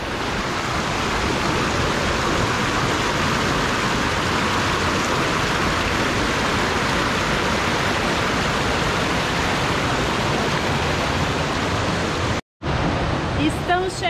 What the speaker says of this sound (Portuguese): Estamos chegando na última cachoeira, que é a Cascada Madeiros.